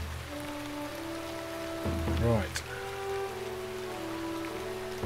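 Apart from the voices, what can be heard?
rain falling in Shroud of the Avatar video game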